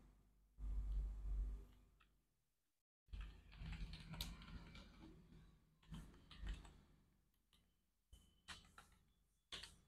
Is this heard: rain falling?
no